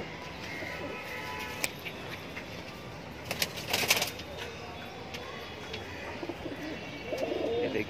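High-flyer pigeons at a pigeon sale in Mumbra, Thane, coo softly and intermittently over a steady background hum, with a few brief sharp sounds scattered through.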